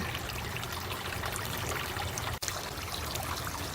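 Hydrogen peroxide poured into the water of a garden fountain, a steady continuous trickling stream with a brief dropout near the end, close and moderately loud with no talking.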